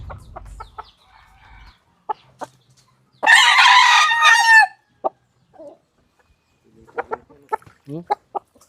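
Chickens cluck in short bursts around a loud, close rooster crow of about a second and a half, then more scattered clucks follow in a quiet farmyard.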